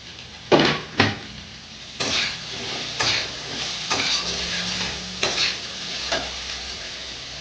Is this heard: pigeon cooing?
no